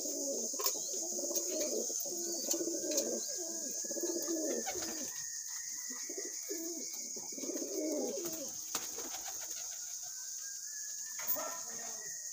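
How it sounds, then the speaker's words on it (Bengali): Teddy pigeons coo in repeated low, throaty phrases close by, with some faint chirps and a steady high background hiss; no one speaks. "প্রথমে আমি আমার সবচেয়ে ফেভারিট এবং আমার সবচেয়ে বয়স্ক কবুতর"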